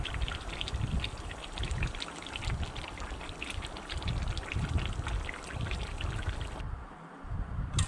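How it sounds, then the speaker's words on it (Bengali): Fish roe is poured into a simmering potato and pointed gourd curry, giving a wet, bubbling, trickling sound that runs continuously and close up, with a brief dip near the end. "এর মধ্যে মাছের ডিমগুলো ঢেলে দেব"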